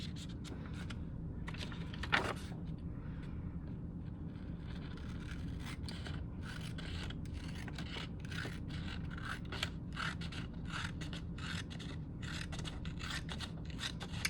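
Scissors trimming paper for an art collage: a steady stream of close, crisp snipping and rasping cuts with brief pauses, over a constant low background hum.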